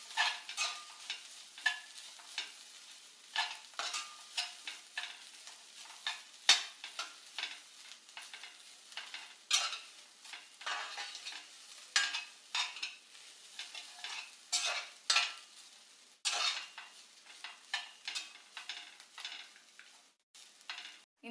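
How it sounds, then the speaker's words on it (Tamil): Grated coconut roasting in a pan, stirred continuously with a spoon in a steady run of soft scraping strokes over a faint dry sizzle, close and quiet, no talking. "தேங்காயில் இருக்க அந்த ஈரப்பதம் போகிற அளவுக்கு நல்லா வறுத்துடலாம்"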